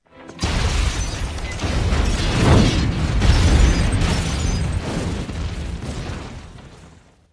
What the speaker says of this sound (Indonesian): box kontainer itu tiba-tiba meledak